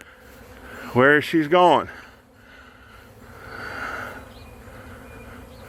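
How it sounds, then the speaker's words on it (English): A honey bee swarm buzzes steadily in the open air, a broad continuous drone under and around a short burst of nearby talk. "we have a swarm trying to figure out"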